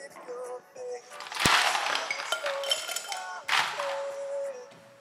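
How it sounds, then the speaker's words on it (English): Ice being dropped into a highball glass, with a cluster of close clinks and rattles of cubes against glass, a sharp knock at the start and a second burst of clatter a couple of seconds later. "So take your highball, fill it with ice."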